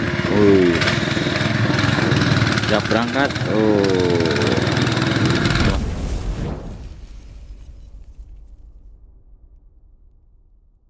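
A loud boat engine drones steadily under a man's speech on the Jatigede reservoir, then fades away over the last few seconds into near silence.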